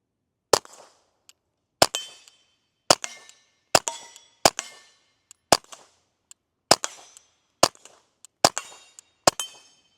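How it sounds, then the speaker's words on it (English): A Ruger MKIV 22/45 Lite pistol fires .22 rounds: ten sharp, evenly spaced shots, each with a short metallic ringing tail, loud and close with no talking between them. "Ten more rounds downrange."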